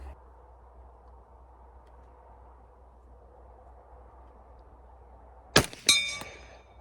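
A bullet from a Ruger LC carbine strikes a steel target at a shooting range, giving one sharp, loud metallic clang with a ringing tail, then a second ring right after. It follows several seconds of quiet low background hum.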